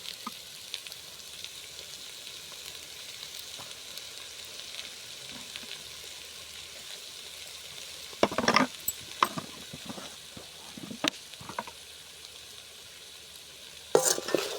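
Potato pieces fry in a pan with a soft, constant sizzle, then a spatula scrapes and turns them in several bursts of close clattering stirs.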